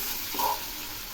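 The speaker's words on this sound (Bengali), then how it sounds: "আবারও একটু নেড়ে দিচ্ছি। আরও বেশ কিছুক্ষণ কষাবো।" Spiced potatoes for Bengali dum aloo are stirred and sautéed in a pan, giving a quiet, steady sizzle with a soft spoon scrape partway through.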